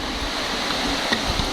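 Buriti waterfall rushing steadily as a broad, continuous roar of falling water, heard from a viewing deck, with a faint breath of wind and no talk.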